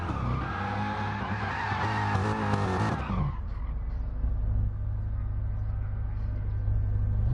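A car spins donuts in the GT4 racing video game at Sardegna, its tyres screeching loudly for about three seconds before the squeal cuts off to a steady, rumbling engine drone.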